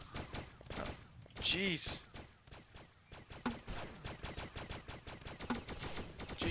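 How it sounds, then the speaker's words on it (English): Grenade shots and explosions in the video game Starbound, a rapid burst of sharp blasts and gunfire-like bangs that keeps going under the players' excited talk, with one voice exclaiming. "That was the worst grenade shot in the history of grenade shots."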